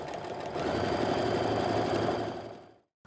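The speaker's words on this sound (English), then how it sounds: "line up my last 2 corners and sew the rest of the way down" A sewing machine runs steadily for a few seconds as it stitches half square triangle quilt pieces, a close, continuous mechanical whir that stops abruptly at the end.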